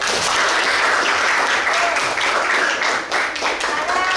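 A classroom of people clapping steadily at a teacher's request during a lesson, loud and close, the applause holding for several seconds with brief voices mixed in.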